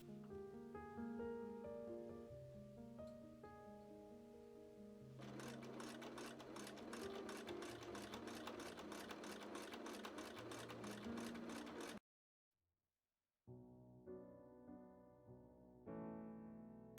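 A sewing machine stitches down a pressed button placket on a dress, running in a steady, rapid burst of about seven seconds over background music, with music alone before and after.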